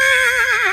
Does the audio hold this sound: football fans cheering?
no